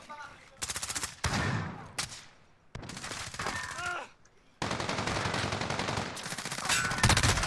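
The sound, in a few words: gunfire from a video game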